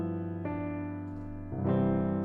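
Music notation software plays back a sustained 13th chord in a clean, synthetic instrument tone, with a few successive voicings changing over two seconds and no speech.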